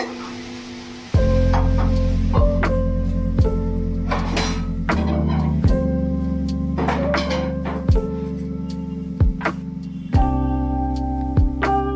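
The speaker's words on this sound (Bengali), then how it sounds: "ওই যে আলু ভাজা চাপিয়েছি আর রুটি।" Potatoes fry in a pan with a constant close sizzle, broken by repeated clinks and scrapes of stirring and a steady hum running beneath.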